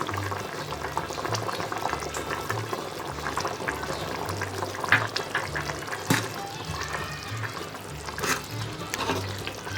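A pot of Nellore fish stew (chepala pulusu) boiling on the stove, steady bubbling and gurgling with low popping pulses and occasional louder splutters, close and continuous with no talk.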